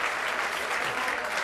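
Many people clap together at a year-end festival gathering in the Kursaal hall, a thick, continuous roar of applause that holds evenly loud throughout.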